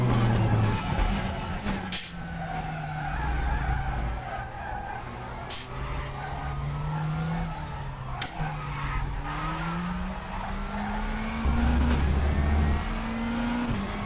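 A race car in the RaceRoom sim racing game, a BMW M4 class, runs a practice lap with engine revs rising and falling through gear changes and occasional tire squeal, steady and moderately loud.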